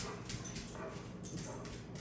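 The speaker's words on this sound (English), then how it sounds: "Do you guys hear my dog? He is just kind of ridiculous sometimes." A dog indoors gives short whimpers and yips with a few soft barks, fairly faint and scattered across a quiet room with no talk.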